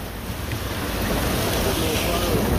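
Water rushes and churns in a broad, steady roar, mixed with gusty wind buffeting the microphone.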